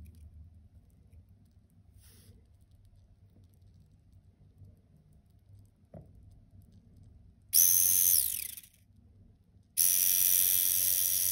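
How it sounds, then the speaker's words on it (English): A small blender powered by a homemade lead-acid battery gives two loud, close bursts of whirring, hissing noise, the first about a second long and the second starting after a short pause, following a quiet stretch with light handling sounds. "Now let's run my small blender with our battery."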